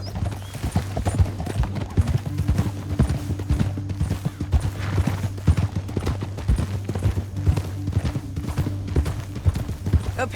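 Horses gallop in the Red Dead Redemption 2 video game, a steady, fast clip-clop of hooves close by with an occasional whinny, continuing throughout over a low ambient drone.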